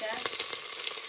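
Red chilies and curry leaves sizzle in hot oil for savory sev mamra, a steady bright crackling hiss held close and loud over a brief span.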